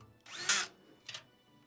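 A cordless power drill drives screws into a PC case during a computer build, giving a loud whirring burst followed by a shorter second burst, heard up close with no talking.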